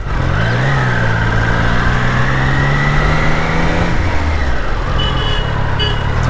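A loud Triumph Daytona 660 motorcycle engine idles and revs steadily up close, its low droning exhaust note rising slightly before dropping off, with a high tone near the end.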